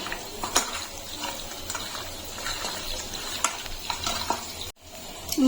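Mutton being mixed by hand with mustard oil and salt, with soft squelching, rubbing and light clicks in an uneven rhythm close by, and a brief gap near the end. No one is heard speaking.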